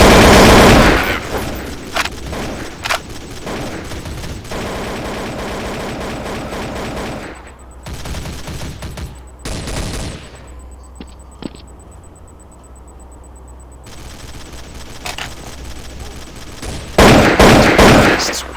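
Gunfire in Counter-Strike: Source, loud shotgun blasts and bursts of shots in irregular clusters with quieter gaps between, close and sharp, along with brief game sound effects.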